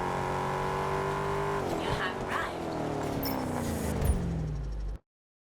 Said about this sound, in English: The sound of the car sounds pretty good. So the Mustang sounds on point.